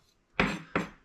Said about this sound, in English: slice up our garlic into really fine pieces, and then I'm going to add some salt, and then crush it all down